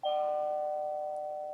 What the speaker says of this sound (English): Let's do a KA band alert.